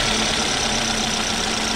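Chevrolet car engine running with a steady metallic rattle, attributed to the timing chain. The sound is loud and continuous, a close, even drone with no talking over it.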